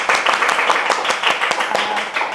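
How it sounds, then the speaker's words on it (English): An audience at a multivitamin and weight management talk gives a big applause, a brisk patter of distinct hand claps from a small group, fairly close and continuous for a couple of seconds. "Let us give a big applause."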